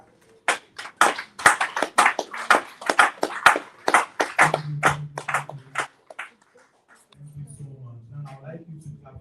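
A conference audience claps in a burst of sharp, separate hand claps that taper off, followed by quieter voices with a faint hum.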